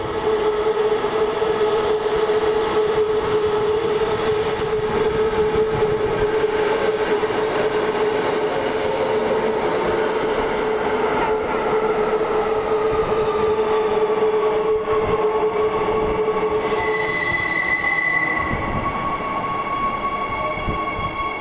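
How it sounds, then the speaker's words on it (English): A six-car ME55 electric train pulls into a station, a loud continuous rumble of rolling wheels and motor whine with high-pitched wheel squeals near the end, close and sustained throughout with no talking. "Here comes our train, a six car train."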